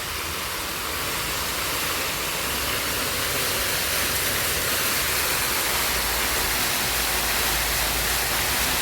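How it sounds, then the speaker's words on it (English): Park fountains roaring loudly nearby, a dense, unbroken rush of falling water that stays steady and fills everything with no other sounds breaking through. "this is probably going to sound a little bit loud with these fountains."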